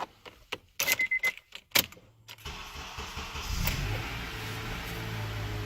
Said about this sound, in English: So get in, start the vehicle.